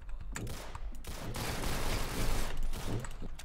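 Dense, continuous gunfire from the Arsenal video game crackles steadily for a few seconds, with rapid overlapping shots and no talking.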